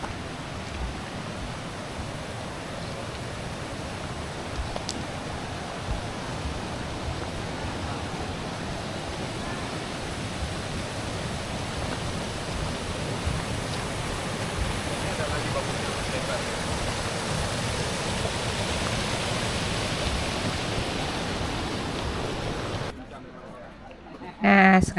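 River water rushes near a campground on Gunung Puntang in Bandung, a steady, close, broadband roar that holds unbroken for most of the stretch before cutting off abruptly near the end.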